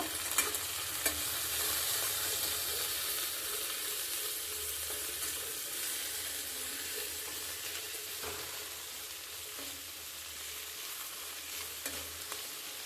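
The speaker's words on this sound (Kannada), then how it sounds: "ಇವಾಗ ಎಣ್ಣೆ ಹಾಕಿದ್ದೀನಿ ಚೆನ್ನಾಗಿ ಫ್ರೈ ಮಾಡ್ಕೊಬೇಕು" Okra frying in oil gives a soft continuous sizzle with a few faint spatula taps, fairly quiet and without speech.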